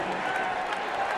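A large football stadium crowd at a 2018 preseason game between the Philadelphia Eagles and Cleveland Browns applauds and cheers Baker Mayfield, a steady, dense roar of clapping and voices that fills the whole moment without letup.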